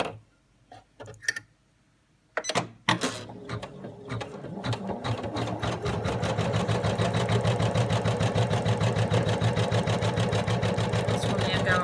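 A sewing machine stitches an appliqué outline to attach fabric to a base piece, starting after a few light handling clicks and then running steadily with a fast, even mechanical rhythm, close and fairly loud.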